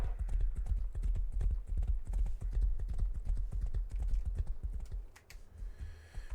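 Horse hooves clip-clop in a video game, a quick, steady rhythm of close, crisp footfalls that plays alone and eases off near the end.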